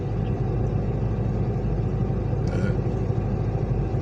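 Steady low rumble of road noise inside a moving Saturn car, a constant engine and tire drone that fills the cabin with no voices.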